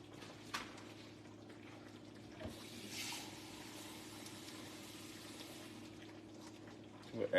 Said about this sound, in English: We'll add a little water and just get it going.